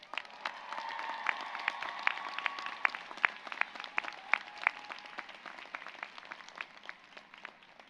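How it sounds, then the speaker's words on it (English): An audience at a university commencement ceremony applauds steadily, with many hands clapping in a dense, moderately distant patter that thins out toward the end. "celebrate your families and friends with a very big round of applause"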